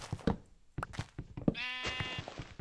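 A single sheep bleats in a video game, a wavering cry amid soft thumping footsteps and knocks.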